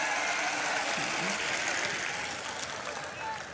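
Audience applause at a Hindi comedy poetry gathering, a broad steady wash of clapping across the whole stretch that fades slightly toward the end, with a murmur of crowd voices underneath.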